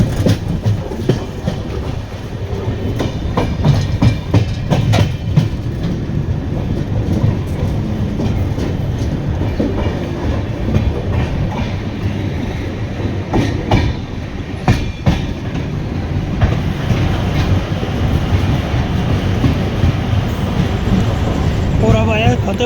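Passenger train 12403 arriving at Fatehpur Shekhawati station platform in Sikar district, heard from on board: a steady loud rumble of rolling wagons with clickety-clack wheel beats and occasional squeals, continuous throughout with faint background voices.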